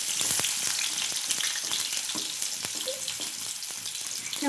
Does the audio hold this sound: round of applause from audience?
no